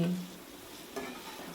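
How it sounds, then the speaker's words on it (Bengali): Leftover soaked-rice pieces stir-fried in a pan with spices and turmeric, a steady soft sizzle with scraping stir strokes, fairly quiet and close, with a brief louder scrape near the end and no talking. "এরপর ভেজে নিয়ে যে ভাতের পিসগুলো কেটে রেখেছিলাম সেগুলো দিয়ে মিশিয়ে নিচ্ছি"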